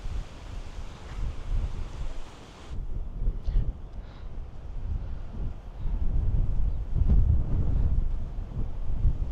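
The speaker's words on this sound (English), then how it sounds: "Quite windy, as mentioned." Strong wind buffets the microphone with a constant low roar and gusty rumbles, steady throughout with no talking.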